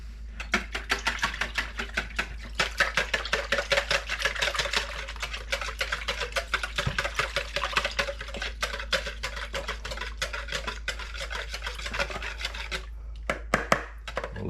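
Egg batter is whisked briskly in a bowl, a steady run of fast, light tapping and clicking strokes that carries on for the whole stretch, with no talking.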